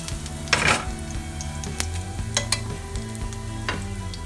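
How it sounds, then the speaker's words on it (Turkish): Garlic sizzles steadily in two tablespoons of oil in a heated pan, with a burst of louder frying and scraping as it is stirred, plus a few light clinks of utensil against the pan. "Sarımsakları ekliyoruz. Ve birazcık kavuracağız."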